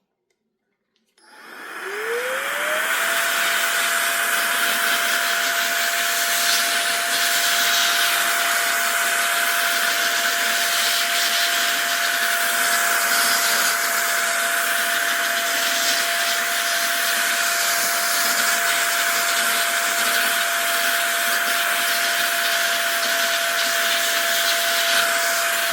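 Roedix electric air duster starts up and runs as a steady, loud high-pitched whine with a broad rushing airflow, blowing dust out of a keyboard, continuous for over twenty seconds with no talk.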